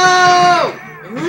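A goat in a video game lets out a loud, close, wavering bleat that slides down in pitch, followed by a shorter second cry.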